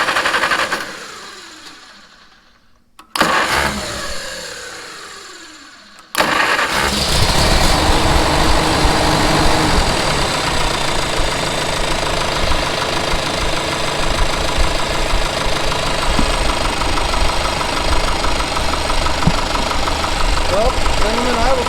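A Farmall Super C tractor engine, just back from an oil pump repair, cranks over twice in short bursts and then catches, settling into a loud, steady idle that runs on without break.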